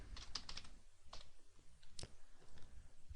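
Computer keyboard typing while entering parameter prompts in a database query dialog box, with quiet clusters of clicking keystrokes in short irregular bursts, close and soft.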